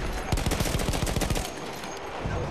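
Rapid gunfire from a short rifle in the Battlefield 1 campaign, a close, loud burst of about a dozen sharp shots in quick rhythm before trailing off.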